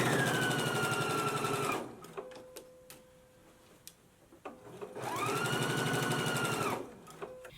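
A sewing machine stitches the inner leg seam of a jumpsuit in two loud, steady runs of rapid whirring, separated by a pause filled with light clicks and handling noises.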